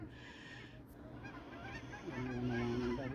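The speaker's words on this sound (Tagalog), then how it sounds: "Naririnig dito mga kaibigan yung huni ng mga wild geese." Wild geese honk loudly and repeatedly near a community pond, several overlapping calls building toward the end with no talking.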